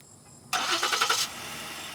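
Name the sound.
car engine starting with keyless start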